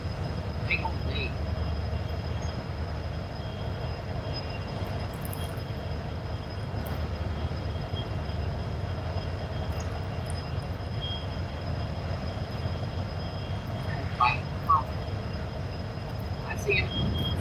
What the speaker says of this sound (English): I like the trains, I just don't like them to sit here all big old day.